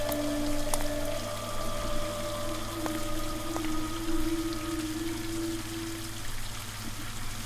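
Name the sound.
faucet running water in the video game Scratches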